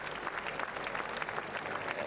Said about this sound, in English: let's clap for wonderful Jesus Christ